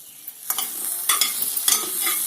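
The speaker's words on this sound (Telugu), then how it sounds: "కొంచెం చల్లేసి ఒకసారి కలపండి" A spoon stirs half-boiled sweet potatoes sprinkled with a teaspoon of sugar in a pot, giving several close scraping and rustling strokes over a soft background hiss, with no talking.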